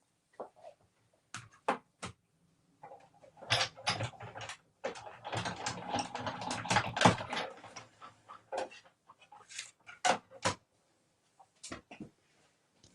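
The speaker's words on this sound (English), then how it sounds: "So I'm just going to run this through the machine." Purple cardstock in an embossing folder being cranked through a manual embossing machine, giving a close series of irregular clicks, ratcheting and grinding mechanical bursts with quiet gaps between them.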